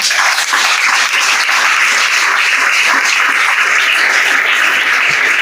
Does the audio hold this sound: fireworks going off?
no